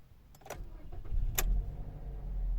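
A 2008 Mazda 6 with a 2.0 petrol engine and automatic gearbox starts up nearby: a couple of short clicks and a brief starter burst, then the engine catches and settles into a steady low idle rumble that grows slightly louder.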